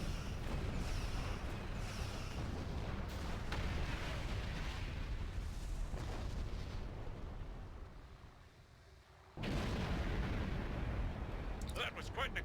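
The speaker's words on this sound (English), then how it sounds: "That was quite an explosion." Ship exploding in the space game Star Trek Online, a long, loud roaring blast that rumbles, fades briefly, then bursts back at full force, with a voice talking over part of it.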